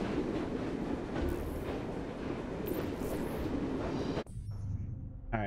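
Steady rumbling and rattling of a train ride in Assassin's Creed Syndicate, a dense continuous roar of wheels and carriage that cuts abruptly near the end to a quieter hum before swelling again.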